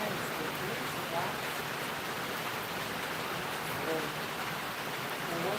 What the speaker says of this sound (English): The sound is a lot of rain here in Romania.